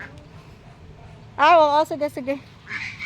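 A duck gives a loud burst of quacks followed by a couple of shorter calls, close by, with people talking quietly before and after.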